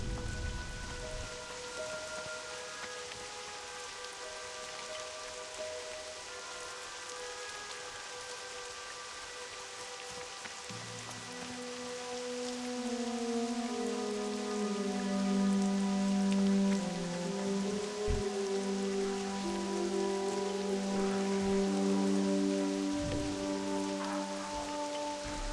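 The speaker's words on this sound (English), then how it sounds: "And now it's raining outside." Steady rain hisses across the ground in World of Warcraft Classic, a soft even wash of drops that swells slightly louder partway through, with droning game music tones layered underneath.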